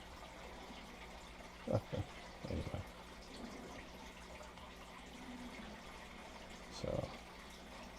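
Plants being watered in the survival game Icarus, a few short splashy pours of water in quick bursts at low volume, with someone speaking briefly over a quiet background hum.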